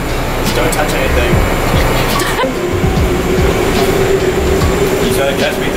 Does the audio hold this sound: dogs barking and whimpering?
no